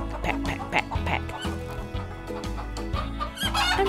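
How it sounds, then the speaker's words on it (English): Cartoon chicken clucking in a children's animated show, a run of short clucks repeated in quick bursts over bright background music, with no speech. "And what noise is it making? Cluck, cluck. Cluck, cluck, cluck, cluck, cluck. It's a chicken."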